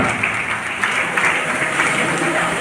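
Audience applause at a Sharana culture and literature conference in Kalaburagi, a dense, steady wash of many hands clapping together throughout, moderately loud and even, with no voices standing out.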